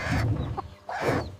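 Cartoon chicken clucking in a kids' farmyard show, two short bursts of clucks close up with a brief pause between them.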